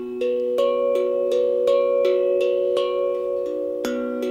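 Melody on a double-sided glucophone tongue drum, a series of struck metallic tones with clear ringing pitches, roughly one strike per half second, each note sustaining into the next, close and clean.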